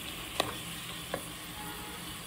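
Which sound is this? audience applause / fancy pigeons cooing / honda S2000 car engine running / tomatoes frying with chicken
tomatoes frying with chicken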